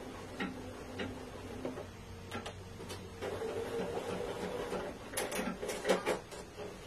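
A home sewing machine stitching fabric, giving a faint, close run of quick mechanical ticks and clatter that starts and stops in short bursts, with no talking.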